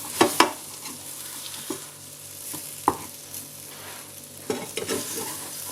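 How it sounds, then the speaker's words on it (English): Pork chops for Hong Kong-style baked tomato pork chop rice frying in a pan, with a steady sizzle and a few sharp clinks and scrapes of stirring, close up and without talk. "Just fry both sides."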